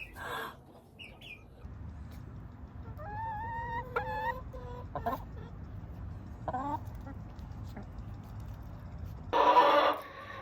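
A hen among young backyard chickens clucks and squawks in short rising calls, scattered and fairly close, over a faint low background hum, ending with a louder burst of noise.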